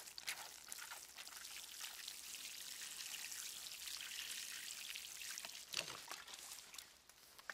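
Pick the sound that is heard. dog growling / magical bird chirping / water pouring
water pouring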